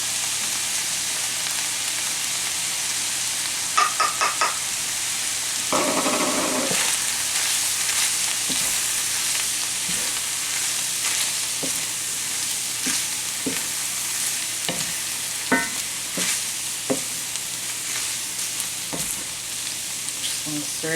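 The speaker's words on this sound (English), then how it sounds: "Just want to stir it in and mix it really good." Flour is stirred into ground beef frying in a pan for stroganoff. A steady sizzle runs underneath a spoon that scrapes and taps against the pan in irregular strokes, with no one speaking.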